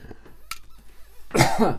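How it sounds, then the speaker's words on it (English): A single short, harsh cough bursts out near the end after a quiet moment, close to the microphone. "I seem to be coughing a little bit today"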